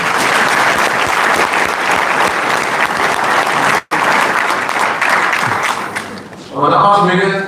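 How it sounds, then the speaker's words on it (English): A fundraising dinner audience breaks into loud, dense applause that holds steady for several seconds, briefly cuts out, then tapers as a voice begins talking near the end. "Round of applause for Megan."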